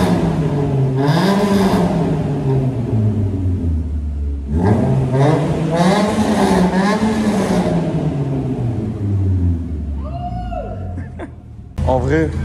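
A Renault Clio RS fitted with a loud Cobra exhaust starts up and revs, its engine note climbing and falling in repeated sweeps before easing toward idle, with people talking throughout.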